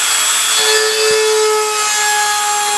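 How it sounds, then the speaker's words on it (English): A Dremel rotary tool cuts a slot into a toilet tank and gives off a steady high-pitched whine with a gritty grinding rasp. It runs continuously and close up for a few seconds. "I'll use my Dremel to carve out a little slot."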